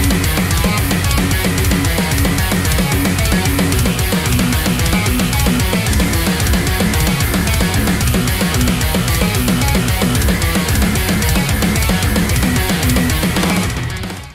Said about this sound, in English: I make procedurally generated music, mainly of the djent and progressive metal variety.